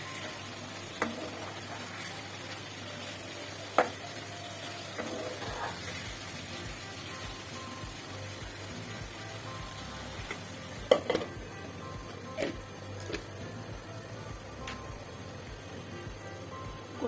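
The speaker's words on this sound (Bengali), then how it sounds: "কলিজাগুলো মশলার সাথে ভালো করে কষিয়ে নিয়েছি।" Beef liver with spices and fried onions sizzles and is stirred in a pan, a steady fry crackle with occasional sharp ticks of a spoon against the pot, and no voices.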